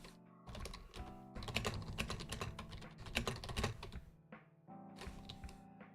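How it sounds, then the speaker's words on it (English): Fast typing on a computer keyboard while programming, dense quiet clatter of keystrokes in uneven bursts with brief pauses between them, alone with no talking. "I've not finished typing my line."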